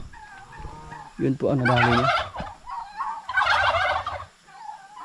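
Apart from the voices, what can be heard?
chickens and fowl clucking on a farm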